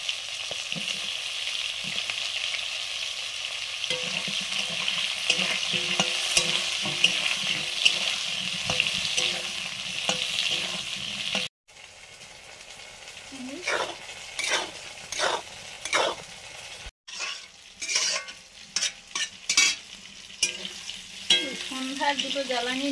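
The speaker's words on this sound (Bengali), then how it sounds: "বেগুনগুলো ভাজছি।" Eggplant pieces sizzle steadily in hot oil in a pan during home lunch cooking, a dense continuous fry that later gives way to quieter sizzling broken by sharp clinks and stirring taps of a utensil against the pan.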